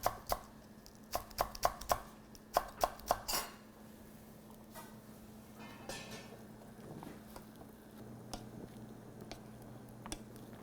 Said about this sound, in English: I'm going to cut it in a bias.